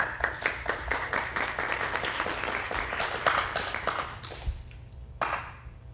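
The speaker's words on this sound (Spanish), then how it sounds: "remos pase al doctor Jean-Paul Taboada Pilco con fuertes aplausos." Steady applause from an audience at a criminal law lecture fills the room, many hands clapping densely, then tapering off with a few scattered claps near the end.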